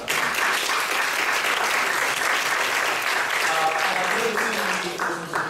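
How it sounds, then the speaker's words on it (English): Sustained audience applause for panelists after a debate on Islam and Australian politics, steady and fairly loud throughout, with a few voices faintly audible near the end. "I'd like to give everyone of our panelists a big round of applause"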